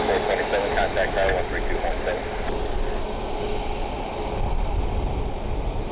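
Jet engine roar as an aircraft taxis toward its gate at Columbus Glenn airport, a steady broad rumble with hiss, continuous and fairly loud throughout, with faint talk underneath.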